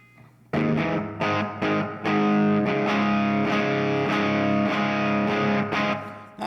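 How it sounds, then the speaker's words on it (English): Electric guitar played through a Chase Bliss Brothers AM pedal with distortion set halfway and no tone boost, sustained chords ringing out in several strummed phrases, loud and upfront with no voice. "I am going to start with no tone on and distortion halfway up."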